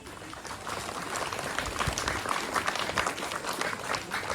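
Steady applause from a crowd at a parish church celebration, dense clapping that holds at an even level throughout without anyone speaking over it.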